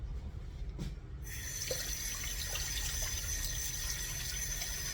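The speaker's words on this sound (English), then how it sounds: "And before I grab the salt container, I better rinse my hands." Hands are rinsed under a kitchen tap while preparing ham and potato salad, with a soft tap click before the water starts and then a steady, close splashing stream.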